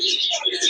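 A pigeon coos briefly and close by at a children's fun park in Delhi, a short soft warbling call mixed with other bird chatter.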